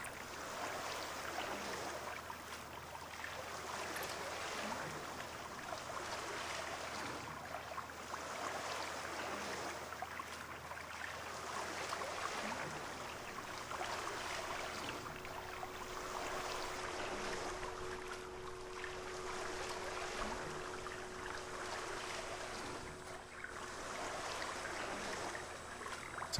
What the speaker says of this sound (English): So we are technically sprinting in the water.